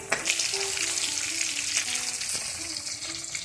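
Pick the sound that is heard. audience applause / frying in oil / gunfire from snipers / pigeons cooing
frying in oil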